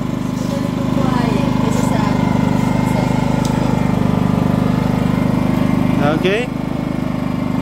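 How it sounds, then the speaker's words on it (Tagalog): A Philking 23i silent inverter gasoline generator running steadily nearby with a smooth, even engine hum throughout, while a person speaks briefly over it. "Ayan ang ating Philkin 23i inverter silent gasoline generator."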